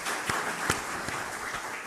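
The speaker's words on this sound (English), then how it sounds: "Let's give them all a warm round of applause." Audience applause following the introduction of a guest lecturer at a university opening lecture, a broad steady patter of clapping with a few louder claps standing out, filling the brief moment without talk.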